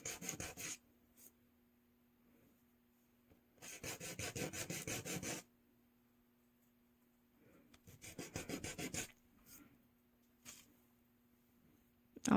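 A still-malleable resin piece is hand sanded, producing close, raspy rubbing strokes in three separate bursts of a second or two each, with near silence and a faint steady hum between them.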